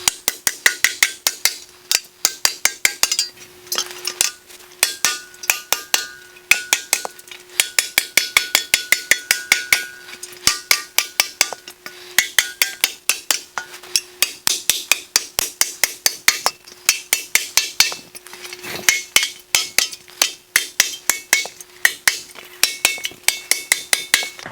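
A hammer strikes sheet metal while shaping a motorcycle fender, a long run of sharp, ringing metallic taps in quick bursts, close and loud, pausing briefly between volleys.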